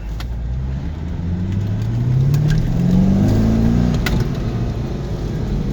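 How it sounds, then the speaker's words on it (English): A 350 hp LS1-engined car with a six-speed manual accelerates hard, its engine note rising steadily in pitch through a gear, loud and close, with road and wind noise beneath. "Car really gets up and goes."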